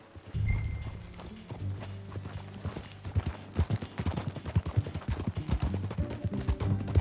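Horse hooves clip-clopping at a steady trot in the video game Red Dead Redemption 2, growing denser and more rhythmic, with a low rumbling backdrop and no talking.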